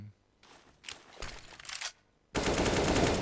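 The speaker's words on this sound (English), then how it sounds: "that's a cool flashbang" Counter-Strike match with a burst of rapid gunfire in short volleys, then a louder sustained crackle of shots at the end.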